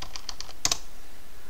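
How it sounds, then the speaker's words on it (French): Keys tapped on a computer keyboard during a desktop software demo, a few light separate clicks followed by two sharper, louder strokes close together, with no talking. "Je vais faire un peu tout au clavier."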